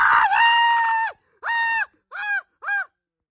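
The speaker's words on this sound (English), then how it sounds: "That was the scream." A cartoon machine lets out four shrill, harmonic screams, one long and three shorter, loud and close and separated by brief silences.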